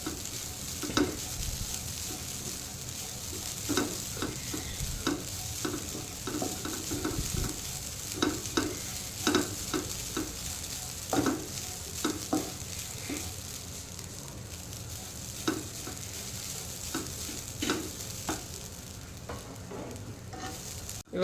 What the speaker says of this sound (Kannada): ಇವಾಗ ಕಾಯಿ ತುರಿ ಕೂಡ ಹಾಗೆ 2 ಸಲ ಹಾಕಿ ಇದನ್ನು ಫ್ರೈ ಮಾಡ್ತೇನೆ.